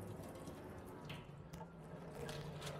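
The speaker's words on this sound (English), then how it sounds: "I'm getting ready to pour out some of this liquid." Cooking liquid from oven-baked ribs pours steadily out of a pan, a continuous close splashing and gushing stream with no voices.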